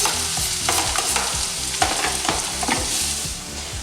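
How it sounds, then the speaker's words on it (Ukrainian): Steady loud sizzling of chopped onion frying in a hot pan, with repeated scraping and stirring strokes throughout. "На розігріту пательню викладаємо ріпчену цибулю та смажимо її."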